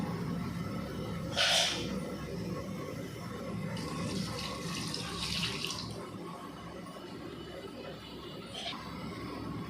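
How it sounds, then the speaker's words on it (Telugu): Water is poured into a cooking pot for goat head curry, coming as faint splashing bursts over a soft running-water background. "డైరెక్ట్గా కొంచెం వాటర్ ఎక్కువ యాడ్ చేసుకుని"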